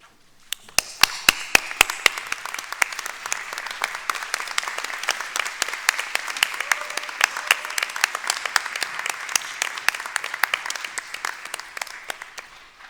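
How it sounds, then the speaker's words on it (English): A standing crowd of doctoral candidates at a University of Texas at Dallas hooding ceremony applauds steadily, with sharp individual claps standing out early before the sound settles into sustained, even clapping that fades near the end. "So please rise now and applaud the people who got you here."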